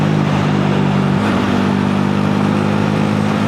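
An old Honda Giorno 50cc scooter engine runs steadily and close, a continuous mid-pitched two-stroke drone with a slight dip in pitch partway through.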